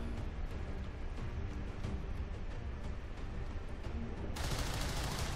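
Gunfire in the turn-based video game XCOM 2, a steady crackle of rapid shots blending into a continuous noisy battle wash, with a sudden brighter burst near the end.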